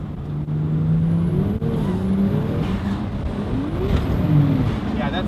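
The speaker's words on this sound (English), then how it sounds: "Aaron's clutch started slipping on his JZX" Toyota JZX drift car with a slipping clutch, its engine droning and rising in uneven revs that flare without pulling, steady and fairly close at a drift day, with a faint high tire whine over the top.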